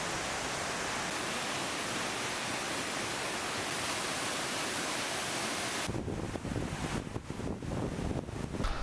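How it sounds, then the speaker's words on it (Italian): A waterfall in Bali roars with a steady, loud, broadband rush that fills the whole clip. Wind buffets the microphone toward the end. "Molto bella la cascata"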